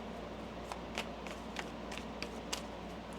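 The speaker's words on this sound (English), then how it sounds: "One more shuffle." Tarot cards shuffled by hand in a quiet room, giving a run of soft, close papery riffles and light taps spread across a few seconds against a low steady hum.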